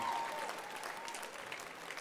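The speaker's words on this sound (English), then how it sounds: "That's too much clapping for the sport act." Audience clapping in a live concert hall at the Capitol Theater, a dense, steady wash of applause from a crowd, moderately loud and fading slightly, with a faint voice at the start.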